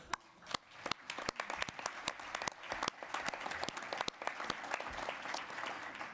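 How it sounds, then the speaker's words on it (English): Applause from a conference audience at a health and domestic violence plenary, dense overlapping claps filling the hall steadily for several seconds, fairly distant and even. "I want to give all of you a round of applause."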